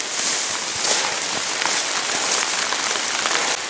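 Sudden heavy rain pouring down outdoors, a dense, loud, steady hiss of drops hitting surfaces throughout, with no one speaking.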